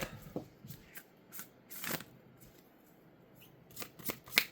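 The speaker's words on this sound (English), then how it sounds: "Let's go ahead and pull a Moonology card." Moonology oracle cards being shuffled by hand, a run of crisp riffling snaps and soft slides in uneven bursts, close and fairly quiet with no talking.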